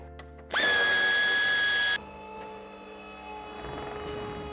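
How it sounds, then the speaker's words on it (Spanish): A power screwdriver loosens the bumper screw on a 2017-2024 BMW X3 G01, in one loud whirring burst of about a second and a half that stops abruptly, followed by a quiet hum. "Desenchufamos y aflojamos el tornillo que sujeta el paragolpes"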